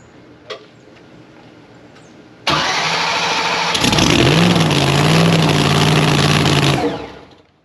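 A race car engine with a blower cranks and catches with a sudden loud roar, then holds a rough, revving idle with pitch rises before cutting off near the end, an injector spraying.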